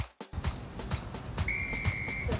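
A sharp whistle blast signals the start of a work interval in a HIIT group exercise class, a clear sustained tone over background thumps and room noise.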